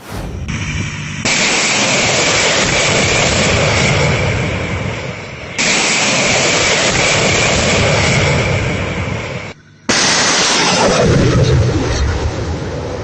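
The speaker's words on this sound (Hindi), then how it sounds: "It released footage of the munitions being fired." Iranian cruise missiles launched toward a US ship in the Indian Ocean give off a loud, sustained roaring blast, split into three long stretches by abrupt cuts.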